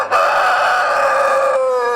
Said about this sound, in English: this is a story we found about a rooster crowing contest